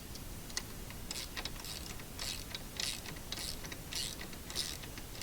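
Nylon locking nut being tightened on a wheel of a Rockler universal mobile base, heard as a steady run of quiet ratcheting clicks, about one a second, repeated and close up over a low background hum.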